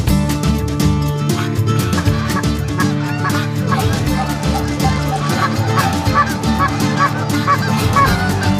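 Geese honk loudly and constantly during a goose hunt, a dense overlapping chorus of many birds calling nearby with no pause.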